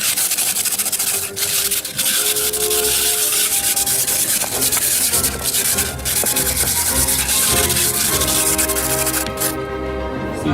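A used pot or wok is scrubbed with baking soda, giving close, continuous gritty rubbing strokes with brief pauses between passes.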